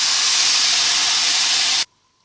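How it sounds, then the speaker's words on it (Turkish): A loud, steady hiss and steam burst as syrup is poured into a hot pot of semolina halva, cutting off abruptly near the end. "yaptığımız şerbeti de böyle yavaş yavaş tenceremize evet döküyoruz"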